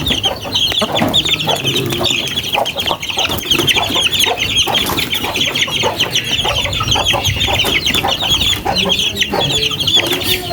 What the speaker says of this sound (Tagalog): Guys, painamin na natin yan ating sisiw.